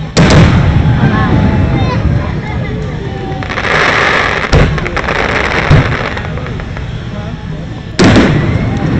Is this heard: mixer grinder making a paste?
no